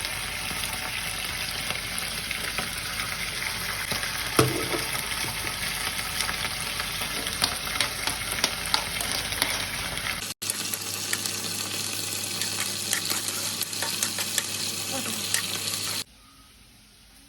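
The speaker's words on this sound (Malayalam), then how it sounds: "നമുക്ക് ഈ ചട്ടിയിൽ കഷ്ണം വെളിച്ചെണ്ണ വെച്ചെടുക്കാം ഉള്ളി വാട്ടാനുള്ളതാട്ടോ വലിയ ഉള്ളി" Big onions sautéing in coconut oil in a pan give a steady, loud sizzle with occasional stirring scrapes, shifting partway through and cutting off near the end.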